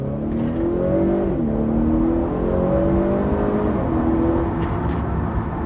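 A Honda Accord Sport 2.0T engine revs hard in second gear and climbs steadily in pitch, with a brief dip partway through before pulling higher again, loud and close.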